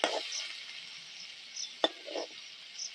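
Chilli, turmeric, cumin and coriander powders are added to a hot pan and give a brief soft sizzle, with a few sharp clicks and scrapes of stirring and no talking.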